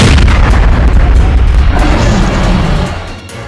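A heavy cannon-like blast as a chain shot is fired at a dragon in a LEGO Ninjago cartoon, loud and booming from the start and then rumbling down into a fading tail.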